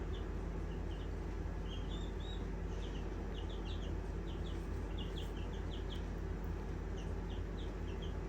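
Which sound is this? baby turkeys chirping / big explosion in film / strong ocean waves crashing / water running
baby turkeys chirping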